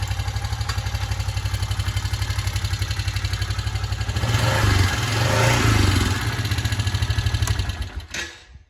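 A Honda motorcycle engine runs steadily nearby with a loud, even idle pulse, briefly revs higher in the middle, then settles and cuts off at the end.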